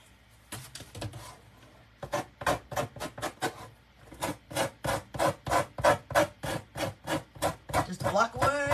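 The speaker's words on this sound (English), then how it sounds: "Just a block of wood and a piece of sandpaper." A piece of sandpaper on a wooden block rubs across a wooden door hanger in steady, rhythmic rasping strokes, close and fairly loud, with short pauses between runs of strokes.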